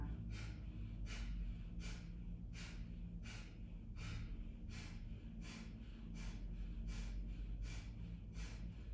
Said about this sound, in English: This is all just about trying to get the deepest, sharpest exhales you can.